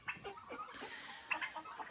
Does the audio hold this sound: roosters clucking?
yes